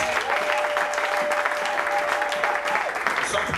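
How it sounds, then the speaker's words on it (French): A church congregation applauds steadily, a dense, even patter of many hands clapping across the room, with a steady tone and some voices mixed in underneath. "Est-ce qu'on peut acclamer pour eux une fois de plus?"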